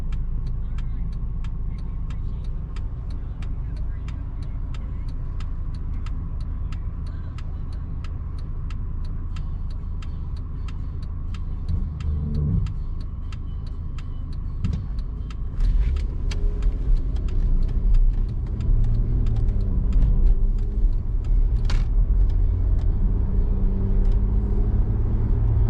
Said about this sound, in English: we'll run it up the ramp here. Try and get it up to highway speeds for you.